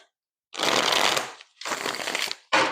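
Tarot cards being shuffled in three quick bursts of dense riffling, the last cut short, close and clear with no talking.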